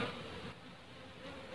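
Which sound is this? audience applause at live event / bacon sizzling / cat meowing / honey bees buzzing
honey bees buzzing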